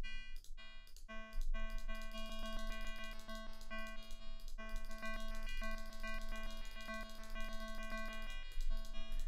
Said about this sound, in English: taking a simple thing like a sine wave and just folding and wrapping it around